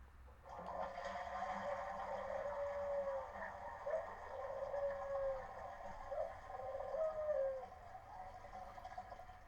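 A guessing-game sound of soft, hooting dove-like calls repeated over a continuous rushing wash like a toilet flushing, the gurgling water steady and moderately close throughout.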